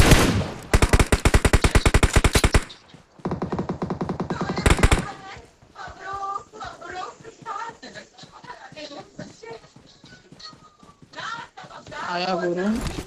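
Rapid bursts of automatic gunfire in PUBG Mobile on the Erangel map, loud dense volleys for the first few seconds, then scattered shots and game effects beneath excited talk.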